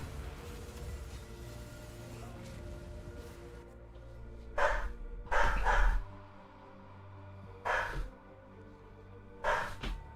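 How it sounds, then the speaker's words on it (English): A small dog barking deep and loud indoors, four separate heavy barks spaced a couple of seconds apart over a low household hum. "that's the other dog, who is smaller but makes a bigger, deeper bark"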